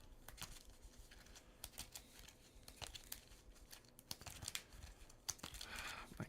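Crisp riffling and snapping of Mage Knight board game cards being shuffled, a quick run of dry slaps and flutters repeating close by without pause.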